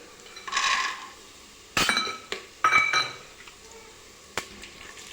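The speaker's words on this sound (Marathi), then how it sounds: "यामध्ये आता आपण हे शेंगदाणे घालून घेऊ" Peanuts tipped into a pan of frying onions while cooking masale bhat, giving a few sharp clinks and rattles against the metal, separated by pauses, close and fairly clear with no talk.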